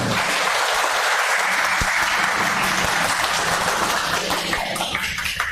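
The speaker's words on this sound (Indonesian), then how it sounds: "tepuk tanganlah untuk mereka" A church congregation applauds a choir, steady and full, with a few sharper claps near the start and no speech over it.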